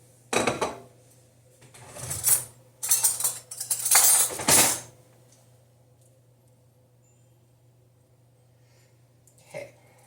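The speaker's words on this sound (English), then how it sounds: "I'm going to have to grab me a spoon." Metal cutlery clinks and rattles as a spoon is grabbed, several short bursts of jangling over a low steady hum, followed by quiet and one faint final tap.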